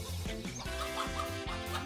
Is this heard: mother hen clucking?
yes